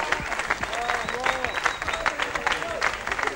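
Crowd applause at a rock concert, filled with cheering voices and whistles over continuous clapping, loud and sustained across the whole stretch.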